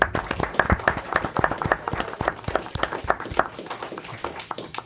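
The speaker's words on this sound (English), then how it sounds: "Let's give them a round of applause." A room of parents and guests at a school board meeting applauds, with fairly close, uneven clapping from a modest group that tapers off toward the end.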